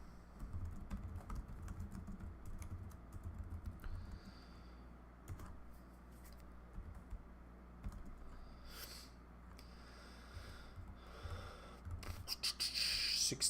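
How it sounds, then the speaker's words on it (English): Steady, fast clacking comes from typing on a computer keyboard, close and fairly quiet, with brief pauses and a louder burst of keystrokes near the end; no one speaks. "I'm gonna go ahead and type this out"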